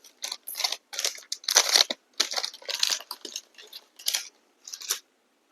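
A packet of rakhi-making chain is being opened: a series of short crinkling, crushing bursts of plastic packaging, close and irregular, separated by brief silences.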